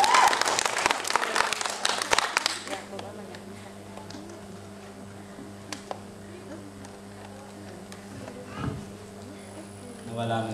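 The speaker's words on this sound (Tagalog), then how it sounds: "Palakpak naman dyan." Audience applause at a church gathering bursts loud and dense in the first two and a half seconds, then drops away to scattered faint claps under a quieter room tone.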